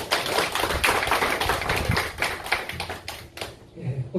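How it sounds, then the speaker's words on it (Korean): A church congregation clapping during a Sunday service, a busy, uneven round of claps close by that fades out near the end. "박수 한번 크게 한번"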